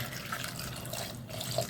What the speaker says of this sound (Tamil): இப்போ தேவையான அளவு தண்ணி ஊற்றிடலாம்